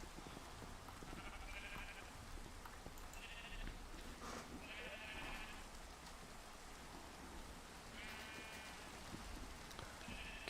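A few sheep in Minecraft bleat in short bursts over a constant, hissing rain-like background, the calls fairly quiet and spread out with gaps between them.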